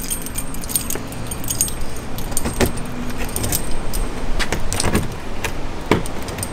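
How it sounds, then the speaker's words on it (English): Keys jangle in sharp, repeated metallic clinks beside a travel trailer during a pre-departure check. They come in irregular bursts over a steady background hum. "Get your keys out."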